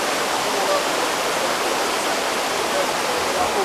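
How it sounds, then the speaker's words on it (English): The rough water of White River in Jamaica rushes in a loud, steady broadband roar that keeps going without a break. "The river too rough, no boss."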